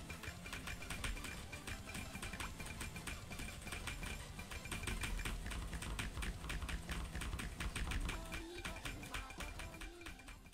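Computer keyboard keys clicked in a fast, steady rhythm while playing the rhythm game osu!, dense close-up tapping bursts with faint game music underneath.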